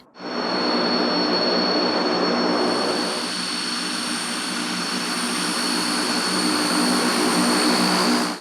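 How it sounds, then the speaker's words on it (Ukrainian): Two An-32P turboprop transport aircraft approach the airfield at Nizhyn, a loud, steady propeller and engine drone holding throughout with a sustained high whine, no voices present. "Два літаки Ан-32 П підлітають до аеродрому у Ніжині."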